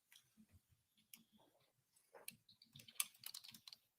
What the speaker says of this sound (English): Judge is typing because he's already making a note of what he wants to write or rule.